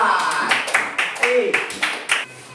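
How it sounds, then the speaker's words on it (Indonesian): Classroom clapping for student groups, a few rhythmic bursts of hand claps in quick succession, close and fairly loud, with a voice speaking among them. "tepuk tangan untuk kelompok 1, 2,"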